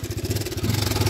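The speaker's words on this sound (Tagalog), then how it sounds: "Tapos paparinig ko sa inyo yung ayusin natin na motor." Honda RS 150 FI motorcycle engine idling close by with a rough, grinding abnormal noise, a steady pulsing low thrum with clattery texture throughout, no talking.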